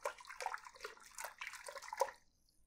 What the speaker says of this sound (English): And now we're going to mix this around for about a minute.